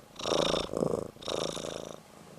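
A cat purrs loudly up close in two long rumbling breaths, a steady vibrating drone that rises and falls with each inhale and exhale.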